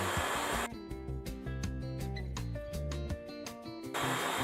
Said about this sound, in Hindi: बैक टक स्टिच करना है।